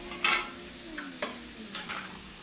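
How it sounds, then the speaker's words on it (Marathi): Usal sautéing in butter and spice masala: a soft, low sizzle with a few quick scraping stirs of a spoon against the pan, close and fairly quiet, no talking. "अशा पद्धतीने परतून घेऊया"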